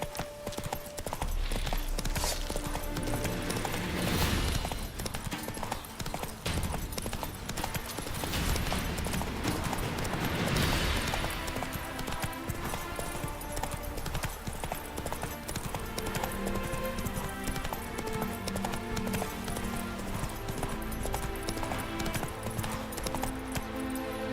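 Hooves of Roach, Geralt's horse in The Witcher, clop in a steady, brisk rhythm throughout, close and continuous over music and game ambience.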